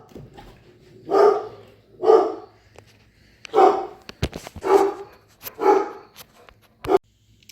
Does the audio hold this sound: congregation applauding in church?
no